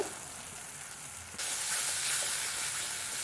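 Spice paste with hot chili and ground tomato sizzles in a pan while being sautéed for a fish dish. The hiss is moderate and then jumps suddenly louder, staying steady after that.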